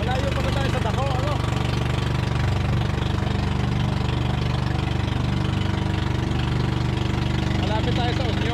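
A bangka, a small Filipino motorboat, has its engine running at sea near Naked Island. It drones in a steady, close, low rumble throughout, with faint voices now and then over it.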